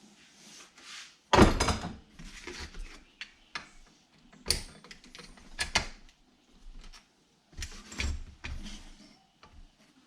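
Metal bolts being worked loose and pulled from a Yamaha RXS 115 motorcycle during a factory restoration, heard as a series of close, sharp clanks, clicks and scrapes of tools and metal parts in irregular bursts with quiet gaps between.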